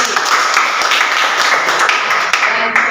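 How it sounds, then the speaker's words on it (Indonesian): Classroom applause for a student, a burst of dense clapping from many hands that carries on evenly at close range for a few seconds. "tepuk tangan untuk Jirwanti"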